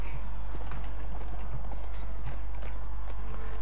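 Horse hooves clip-clopping in rapid galloping rhythm in the medieval combat game Mount and Blade Warband, steady and close over a constant low hum, with no talking.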